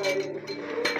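Eggs are beaten in a bowl for pancakes, a utensil clinking quickly against the sides in close, bright taps, with voices talking over it.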